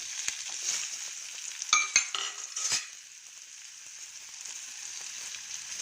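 Onion frying in oil gives a soft, even hiss, with a few sharp clinks and scrapes of a utensil against the pan near the start, then settling into a quiet, steady sizzle.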